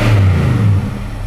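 A Nissan Titan XD truck engine with a short cold air intake and Nismo exhaust revs loudly up close, a deep steady roar that drops off after a moment.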